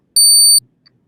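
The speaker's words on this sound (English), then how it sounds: "there's a beeping sound coming from somewhere" An electronic alarm in a room gives one sharp, steady high beep lasting under half a second, loud and alone, followed by silence and a faint tick.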